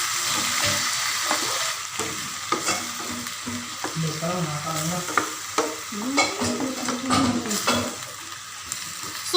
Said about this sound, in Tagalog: At ilalagay ko na rin yung ating talong.